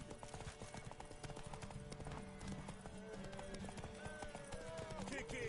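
Hooves clip-clop steadily on a horse in The Witcher 3: Wild Hunt, a quick rhythmic trot heard close, with a brief whinny and background game sounds mixed in under a voice.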